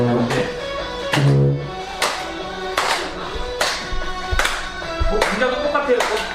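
Hands clap in a loose, repeated rhythm during an indoor dementia-care exercise class, several sharp bursts spread across the clip over music and a voice.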